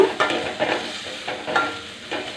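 Spices with green chillies, salt and chilli powder fry in a pan while being stirred, producing soft repeated scraping strokes over a low sizzle in a short burst.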